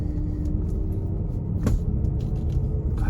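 A Range Rover L405 with its 5.0 supercharged engine runs smoothly and quietly, a low steady rumble heard from inside the cabin with a brief click partway through.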